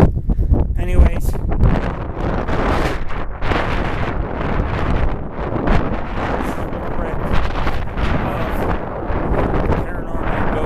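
Strong wind high on a mountain buffets the microphone in loud, rumbling gusts that keep going without a break, with a voice talking over the roar.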